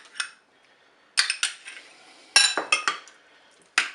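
Spoon clinking and scraping in a bowl while potato, tuna and tomato salad is mixed with mayonnaise, a few sharp separated clinks and bursts of scraping with short quiet gaps.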